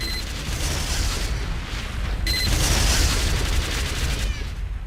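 A turret firing at a zombie in Minecraft: a dense, continuous volley of rapid shots that stays loud and steady throughout and grows slightly heavier midway.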